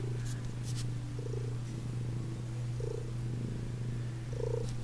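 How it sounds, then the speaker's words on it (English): A cat purrs steadily and close by, a low continuous rumble with soft breathy pulses recurring every second or so. "He's purring."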